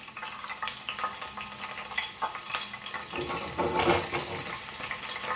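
Curry leaves crackle and sizzle in a tablespoon of hot oil while a Goan crab dish is made, a steady bright spattering that swells louder near the end, alone with no talk.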